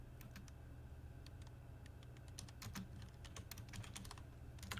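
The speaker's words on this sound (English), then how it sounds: "typing away." Typing on a computer keyboard: steady, irregular key clicks over a constant low hum, fairly close and moderately quiet, with no talking.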